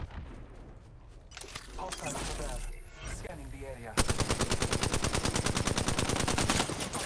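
Shooter video game gunfire rattles in a sustained fast automatic burst through the second half, loud and close, after a stretch of game sounds and talking.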